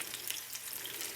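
Steady bright sizzling of opened fish roe sacs frying in a small pan, continuous and close, with no talking.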